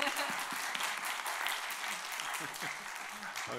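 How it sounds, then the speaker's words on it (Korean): A church congregation at a Thursday women's worship service applauds warmly for a pastor, a steady dense patter of clapping throughout with a voice speaking over it. "감사합니다. 박수 쳐주셔서"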